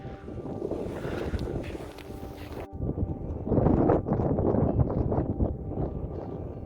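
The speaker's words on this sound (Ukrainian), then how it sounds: "Поблизу річки такий сильний вітер дме, а тут вже краще трохи." Strong wind roars and buffets outdoors, a constant rushing noise that gusts louder midway, with no one talking.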